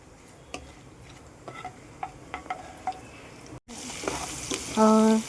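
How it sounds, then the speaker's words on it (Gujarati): Cumin seeds and whole spices sizzle in hot oil for a Rajasthani gatta kadhi. Scattered ticks and pops come first, then a louder, denser sizzle swells, with a brief tonal beep near the end. "જીરું નાખી રહી છું. આ સાથે આપણે બધા જ ખડા મસાલા નાખી દઈશું અને એને સાતળીશું."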